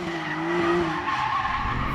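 A four-wheel-drive Porsche slides with its tires skidding, a sustained squealing whine over a revving engine, loud and close, lasting about two seconds.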